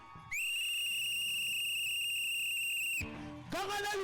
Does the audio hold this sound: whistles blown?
yes